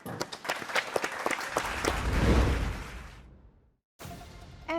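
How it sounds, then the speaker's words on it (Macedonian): Studio audience applause on a Macedonian entertainment show, a dense burst of clapping that swells, then fades to a brief silence before sound resumes. "А сега може со еден аплауз да ја поздравиме Емча."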